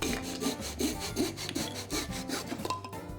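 A handsaw cuts back and forth through excess wooden shims at a door jamb during a fiberglass entry door install, steady rasping strokes roughly every third of a second, close and moderately quiet, with no talk.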